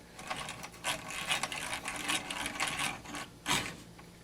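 A vintage 1950s Stanley Defiance hand-crank egg-beater drill bores into material with rapid, close gear whirring and ratcheting clicks, surging and easing in quick bursts as the crank turns.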